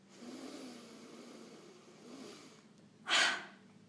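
During a children's breathing and relaxation exercise, a slow inhale and exhale sounds softly and close, followed by one short, sharp, louder breath out near the end.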